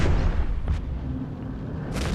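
Spaceship weapons in the space game EVE Echoes fire on a frigate, giving a continuous rumbling barrage of heavy booms with a couple of sharper bursts, loud and steady across the short stretch.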